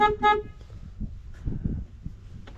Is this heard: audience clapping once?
no